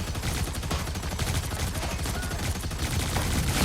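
The Punisher's heavy weapons fire in the video game Marvel Rivals: dense, rapid and loud gunfire that runs unbroken from start to end.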